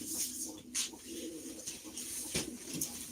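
Soft, low pigeon coos repeat in a steady murmur, with occasional flutters and brief higher chirps over a constant background hum.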